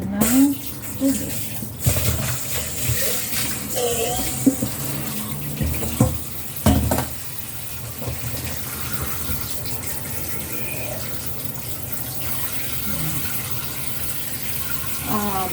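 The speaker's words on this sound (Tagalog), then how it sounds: "I-cover lang natin ng water yung buong manok para umulo siya" Tap water runs steadily from a kitchen faucet, filling a cooking pot over a whole chicken for Korean-style boiled chicken, a loud continuous splashing stream, with a few clatters early on and a voice speaking over it.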